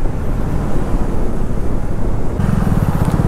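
A KTM Duke 250 motorcycle rides fast, its engine buried in heavy, continuous wind roar across the microphone, with a steadier engine drone rising toward the end.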